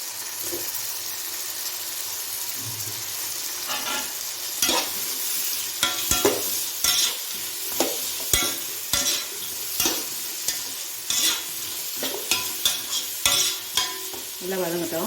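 Diced potatoes and tomatoes sauté in a hot pan for mint rice, with a steady sizzle throughout and frequent sharp spoon scrapes and clinks from stirring, close and fairly loud.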